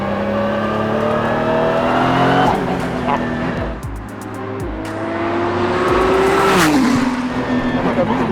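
Ford GT Mk IV supercar, around 700 horsepower, driven hard on track: its engine screams loud and close through repeated upshifts and rising revs, with a sharp howl near the end.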